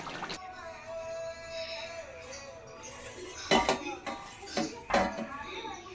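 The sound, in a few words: pot of cooked meat being taken off the stove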